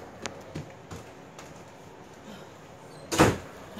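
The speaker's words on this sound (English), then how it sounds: "Did he just open the door?" A German Shepherd puppy pushes a door open indoors, a few soft knocks and bumps followed by one louder close clatter of the door, with faint voices in the room.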